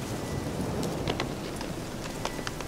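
Dense rain patters without a break in The Witcher 3: Hearts of Stone, with faint crackles of distant thunder in the wash.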